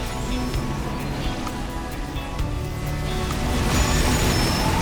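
A heavy truck engine in a video game rumbles steadily, with hissing air and a faint beeping near the end, a continuous loud vehicle drone.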